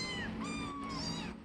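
Young kittens meowing on their first day in a new home, a few thin high-pitched mews close by that overlap over a steady low background.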